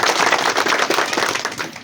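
An audience at a health camp in Hingoli applauds to welcome the organisers, with dense, loud, rapid clapping that continues without pause and fades slightly near the end.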